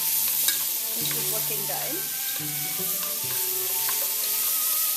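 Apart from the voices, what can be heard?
mushrooms frying and browning in a pan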